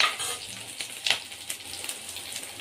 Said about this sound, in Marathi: त्याच्यामध्ये टाकला आणि छान परतून घ्यायचा आहे